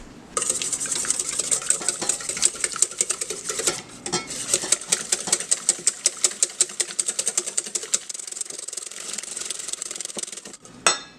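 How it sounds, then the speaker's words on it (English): An egg is beaten hard with a whisk in a bowl while baking gluten-free madeleines, giving a steady run of quick, bright, close clicking taps that rattle on for about ten seconds with a short pause partway through. "Beat it up real hard with a whisk."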